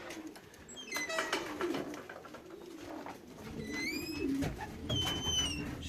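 Racing pigeons back at the loft after a 359 km race, heard as soft, close, repeated low cooing, with higher chirps and whistles from other birds scattered over a quiet background and no talk.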